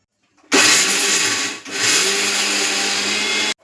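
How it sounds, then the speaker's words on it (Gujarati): Kitchen mixer grinder grinding dry chutney in two pulses, a loud, high whirring motor roar that cuts briefly between bursts and then runs again before stopping. "હવે મિક્સર ચાલુ બંધ કરતા જઈ તેને પીસી લેશું"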